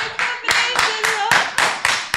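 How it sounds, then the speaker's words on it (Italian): A production crew applauds in a studio, steady rhythmic claps of several hands about every quarter second, close and loud, with a voice talking underneath. "La regia applaude."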